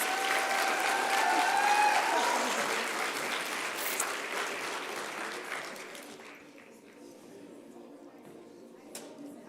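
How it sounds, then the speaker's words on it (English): Sustained crowd applause at a schools challenge winners' announcement, loud and dense at first, then thinning and fading to scattered claps near the end. "Can we give them another round of applause?"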